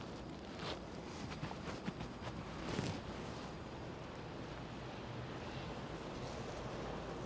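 Wind gusts steadily against the microphone during a snowstorm on Yonge Street in downtown Toronto at 3 AM, a constant low rumbling roar with soft buffeting, heard alone without voices.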